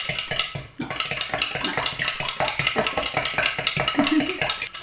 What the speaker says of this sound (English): So just take your fork or whisk or whatever and beat the egg.